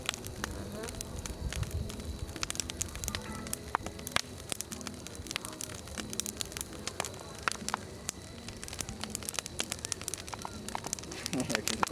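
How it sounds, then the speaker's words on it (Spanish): An outdoor Christmas bonfire crackles and pops steadily with dense, irregular snaps over a low roar, while people talk in the background. "estamos, la fogata navideña, señores"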